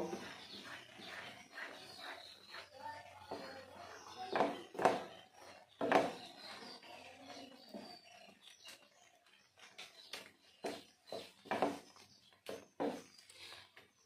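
A spoon stirs semolina and water (one cup to one and a half cups) in a pot, giving irregular scraping clinks and taps that come close and fairly loud, with quieter rustling between strokes.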